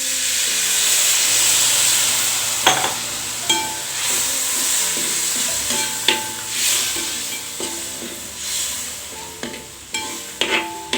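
Water poured into a very hot uruli holding cauliflower potato masala curry over a wood fire hisses and steams loudly, with scattered metallic scrapes and clinks of stirring and no talk.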